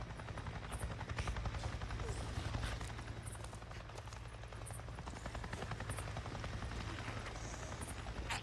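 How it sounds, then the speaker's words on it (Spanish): A helicopter flies overhead in the video game Days Gone, a steady rotor thump and engine roar filling the whole stretch at even loudness, with no voices. "¡Acabo de ver un maldito helicóptero!"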